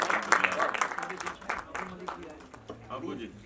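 An audience at an album launch event claps in a short burst of applause, moderately loud, with someone speaking over it.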